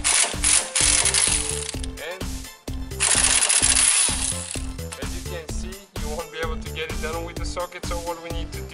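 A wrench works a 15 mm sway bar link nut on a Dodge Caliber during CV axle replacement, producing loud, rapid bursts of ratcheting clicks in a busy, rhythmic pattern with short pauses.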